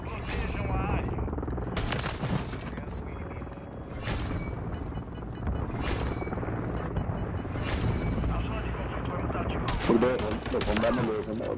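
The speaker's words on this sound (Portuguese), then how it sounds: "eu tô tomando tiro lá da casa" Rapid bursts of video game gunfire from a shotgun match, with dense overlapping shots, booms and mechanical clatter running throughout under a player's talk.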